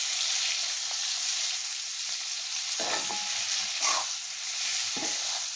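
Okra sizzles steadily in hot oil in a pan for a stuffed masala bhindi, with a spoon stirring it in a few short scraping clacks over the constant frying hiss.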